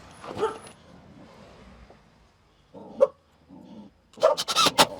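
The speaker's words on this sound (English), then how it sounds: "He's barking at the mail delivery." A dog barks at a mail delivery outdoors beside a wagon build, giving a few sharp barks at a moderate distance with quieter gaps and background sounds between them.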